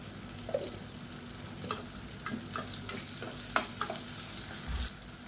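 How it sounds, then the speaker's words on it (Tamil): Onions frying in oil and ghee for a soya chunks kurma, a steady sizzle with stirring scrapes and clicks of a spoon against the pan recurring every second or so. "இப்போ வெங்காயம் நல்லா வதங்கிடுச்சு"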